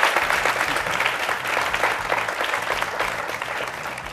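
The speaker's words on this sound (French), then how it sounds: "Public, ovation pour le football" Sustained applause from an audience at a youth and football debate event, dense, even clapping filling the room for several seconds with no talk over it.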